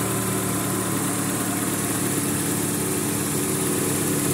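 Car engine with turbo and throttle body idling while the idle-up is worked on, a loud, steady, close rumble with an even vibrating pulse and no voices.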